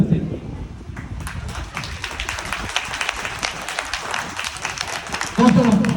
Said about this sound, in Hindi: ये यार तालियां बजा दिया तो फिर दिल से।